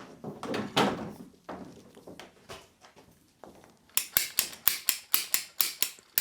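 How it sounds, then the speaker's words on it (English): PEX plastic tubing for a shop air system cut with a special plastic tube cutter, with scattered handling clicks followed by a quick run of sharp, evenly spaced ratcheting snaps up close. "To cut the pipe, I'm using this special tool, and it's specifically made to cut plastic tubing."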